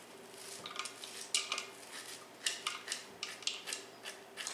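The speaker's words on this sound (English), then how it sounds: "grab a spoon. You want to remove all of these seeds" A spoon scraping seeds out of a halved delicata squash, a series of close, soft scratchy strokes and light knocks in an irregular rhythm, quiet and without talk.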